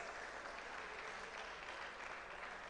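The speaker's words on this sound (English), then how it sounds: "A round of applause for St. Mary's Boys SHS." A school audience applauds St. Mary's Boys SHS at a national public speaking competition grand finale, with steady, dense clapping that fills the hall evenly and continuously without pause.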